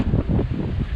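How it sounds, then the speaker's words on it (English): A sailing yacht surfs down waves in a stiff wind off South Africa's coast, heavy low wind buffeting and rushing water filling the whole second, loud and close. "Surfing down the waves"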